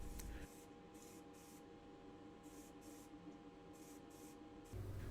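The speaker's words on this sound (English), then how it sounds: "The interior is sprayed black with Motip High Gloss Black." Aerosol can of Motip high gloss black spraying onto the interior of a Majorette Mercedes-Benz 350SL diecast model: a steady hiss running for about four seconds, with a few faint clicks from the nozzle at the start and end.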